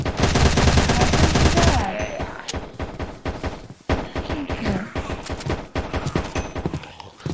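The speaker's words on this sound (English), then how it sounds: "Why did your sentry shoot me?" A sentry gun in a zombie-apocalypse Minecraft game fires a dense, loud burst of rapid shots, followed by scattered bursts and thumps of continued gunfire.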